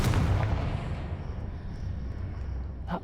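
Confringo blasting spell in Hogwarts Legacy, a heavy booming explosion at the start that rolls off into a long rumbling tail, with a sharp pop near the end.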